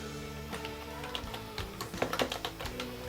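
Keys clatter on a computer keyboard in quick irregular bursts, a steady run of close, soft clicks with a few sharper taps near the end.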